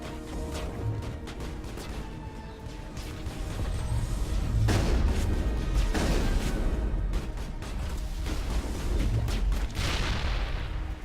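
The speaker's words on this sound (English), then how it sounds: "Eat rocket!" Rocket explosions from the Mass Effect video game, a sustained run of heavy booming blasts and rumbling impacts that stay loud and dense throughout, with no talk over them.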